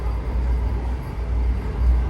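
Vande Bharat Express running at 130 km/h, heard as a loud, continuous low rumble with a steady broadband roar and no talking.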